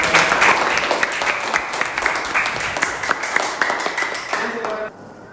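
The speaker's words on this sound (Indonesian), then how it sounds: "kita beri tepuk tangan untuk" Students applauding in a science classroom, a dense burst of many hands clapping at once that stays loud, then thins out and stops abruptly near the end.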